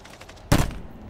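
A single sharp pistol shot goes off in the Call of Duty video game, a short, punchy crack midway through an otherwise quiet stretch.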